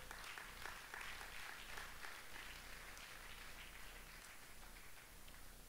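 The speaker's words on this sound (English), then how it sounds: "You're clapping, but you can do that." A church congregation claps steadily in a continuous hissing wash of hands, even and faint, with no voices standing out.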